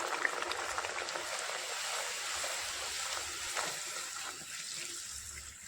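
Rolled bhatura dough drops into hot oil and fries with a steady, hissing sizzle and fine crackle, close and continuous, with no talk over it.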